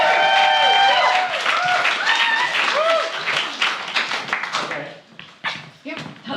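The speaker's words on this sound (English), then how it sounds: "Please give her a really warm round of applause." An audience at a Spoken Word London anti-hate anniversary show gives poet Deborah Collins a loud, sustained round of clapping. Whoops and voices run through it, and the applause thins and trails off in the last seconds.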